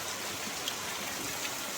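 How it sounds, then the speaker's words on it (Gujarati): Monsoon rainwater streaming and dripping steadily from roof eaves, a dense, even hiss of falling water close by with faint individual drops and no voices. "તો આ નેવાધારું પડી રહી છે"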